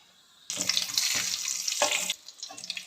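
Cashews dropped into about three spoons of hot ghee for aval paal payasam start a loud, bubbling sizzle that holds steady for over a second, then eases off into faint crackles, with no voices over it.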